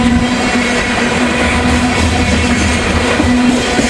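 A loaded coal train passes close by, producing a continuous heavy rumble with a steady metallic hum and no pauses.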